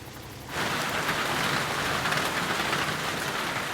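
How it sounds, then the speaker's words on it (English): Heavy tropical storm rain pours down in the jungle, a dense, steady roar that begins abruptly after a brief quieter moment and then holds loud and constant with no voices. "In the jungle, a full-on tropical storm has kicked in."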